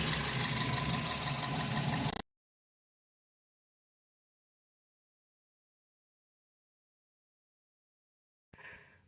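A 2000 Toyota Celica GTS with a high idle problem idles at operating temperature, about 750 RPM, as a steady, close engine hum for roughly two seconds before the sound cuts to silence.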